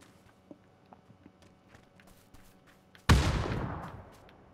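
A frag grenade goes off in PUBG: Battlegrounds, a single loud close blast that rings out and decays over about a second, after soft scattered footsteps and small clicks.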